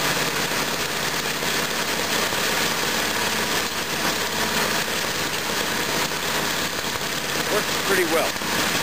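A snowthrower engine drones steadily nearby as the machine pulls itself along on both driven wheels through light snow, holding a constant rumble with no pauses.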